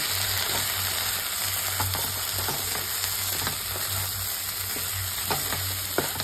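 Grated potato fries with salt in a pan, giving a steady loud sizzle with intermittent scraping, clicking stirs of a spatula, and no speech.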